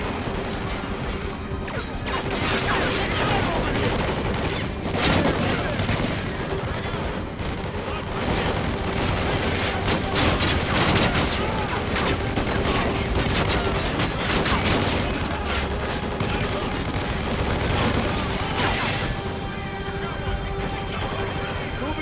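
Call of Duty: Ghosts gunfire, dense continuous bursts of automatic weapons and explosions filling the whole stretch, loud and relentless with crashes layered in.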